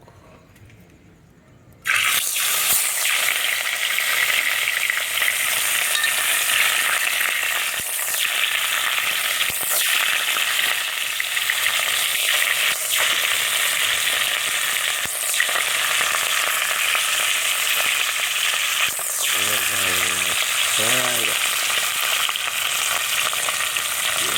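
Fish for Jamaican escovitch frying in very hot oil: after a brief quiet moment a loud, dense, continuous sizzle starts and holds steady, with occasional crackles and a short voice near the end.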